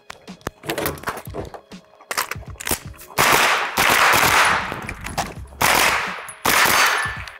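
Sharp, loud gunshots crack in quick bursts at an outdoor range, some single and some rapid strings, with short pauses between volleys.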